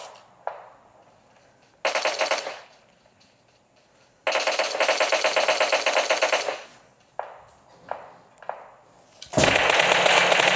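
Gunfire in PUBG Mobile: several bursts of automatic fire lasting a second or two each, mixed with single sharp shots and a loud final burst, separated by short quiet gaps, with no talk.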